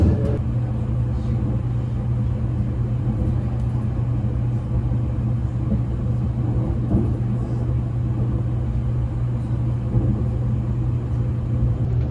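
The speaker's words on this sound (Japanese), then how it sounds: "小田原から先の東海道本線、しばらくね、相模湾沿いに列車走行していきます。" An Odoriko limited express train runs along the Tokaido Main Line past Odawara beside Sagami Bay, heard from inside the car as a steady low rumble and droning hum with faint rattles throughout.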